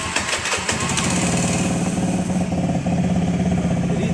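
Close, loud motorcycle engine converted to run on LPG cranking and catching, then settling into a steady, throbbing idle with no talk.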